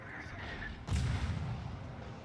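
A broadside of naval guns fires SAP shells in the World of Warships game, one heavy booming salvo that bursts in suddenly and rumbles away, heard alone over low background hum.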